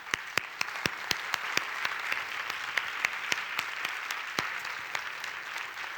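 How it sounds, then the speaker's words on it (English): Audience at a conference applauding panelists, a hall full of sparse individual claps over a steady wash of clapping, moderately distant and without speech. "can we give our panelists a round of applause"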